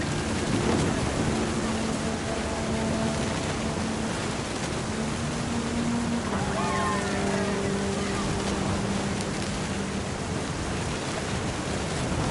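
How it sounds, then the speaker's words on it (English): Thunderstorm in the video game What Remains of Edith Finch, steady dense rain with low rumbling thunder throughout, faint tonal sounds drifting over the wash of noise. "The thunder sounded much too close and full of angry power."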